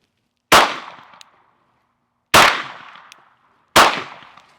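Three sharp, loud shots from a Glock 17 Gen 6 pistol on a range, spaced unevenly about two and one and a half seconds apart, each a crisp crack with a short decaying ring.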